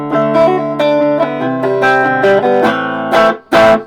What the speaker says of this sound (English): that's it with a reverb pedal on.